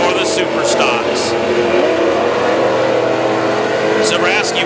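WISSOTA Super Stock race cars running at Princeton Speedway during a heat race, loud engines roaring and revving continuously with cars passing, while an announcer talks over the noise.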